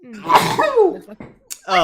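A single sharp human sneeze bursts out mid-sentence during a tabletop role-playing session, following a few spoken words and trailed by a brief breathy sound, close and loud.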